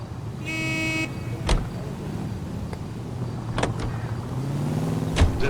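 A car in the video game L.A. Noire rumbles along with a low engine hum, with a sustained horn-like tone near the start and a few sharp knocks and thumps scattered throughout.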